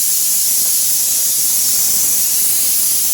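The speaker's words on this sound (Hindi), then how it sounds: "उधर कुकर में सीटी आ गई है" A pressure cooker on a home gas stove whistles as it releases steam, a steady loud hiss that runs unbroken the whole time with no voices.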